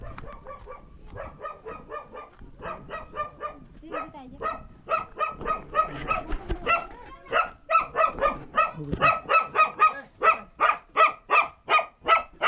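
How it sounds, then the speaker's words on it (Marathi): A dog barks in rapid repeated bursts, growing louder and more insistent, close by, with some voices underneath. "तरी कुत्रं भुकताय"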